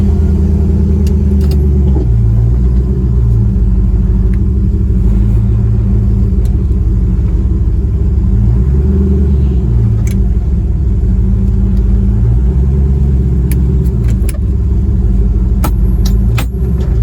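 A Ford Pinto with a turbocharged LS V8 swap rumbles loud and deep steadily while driving, with low throaty pulses and occasional shifts in pitch, heard from inside the car.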